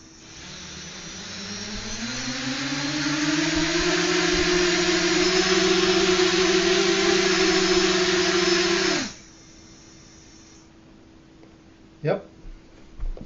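An FMQ Hoku FPV drone's motors spool up to a high, steady whine that climbs in pitch, holds loud and close for several seconds, then cuts off abruptly, followed by a brief click.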